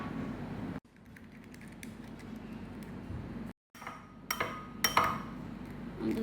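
Two eggs are cracked into a bowl while making bun dough, a few sharp cracks and clicks of shell against the rim landing close together near the end, after quieter kitchen handling noise.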